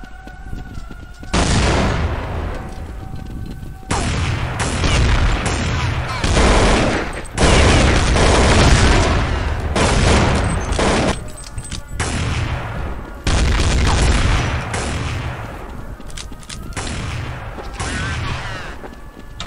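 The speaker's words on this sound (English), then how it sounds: "From now on, I will use shotguns." Shotgun fire in the video game Counter-Strike 1.6, a loud, dense run of booming blasts in bursts separated by brief pauses across the whole stretch, with faint game noise between volleys.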